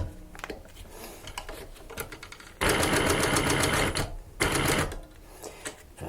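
Bridgesew PB 335 cylinder arm walking foot sewing machine stitching at close range, with light clicks and handling noise before a loud, rapid run of about two seconds and a brief second burst.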